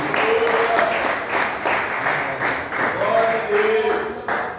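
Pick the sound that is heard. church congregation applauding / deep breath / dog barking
church congregation applauding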